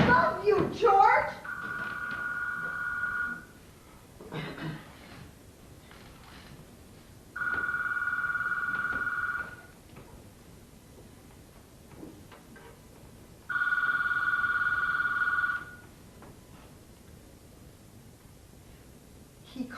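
A telephone rings in three separate bursts of about two seconds each, spaced several seconds apart, fairly clear against a quiet background with brief faint noises between rings.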